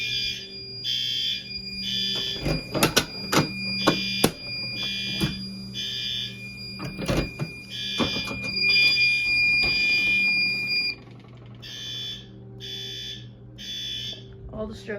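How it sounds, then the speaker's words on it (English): A fire alarm system under test sounds steady repeating bursts of shrill electronic beeping in a regular pattern, with clicks and handling knocks nearby and faint talk underneath. "the beeping's really annoying"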